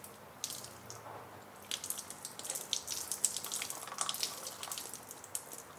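Water is poured over a digital vernier caliper rated IP65, producing faint, irregular splashing and dripping patter that continues throughout.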